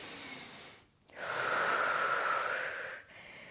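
A person breathing during a dynamic yoga flow, a long steady airy exhale after a short pause, close and clear with no talking.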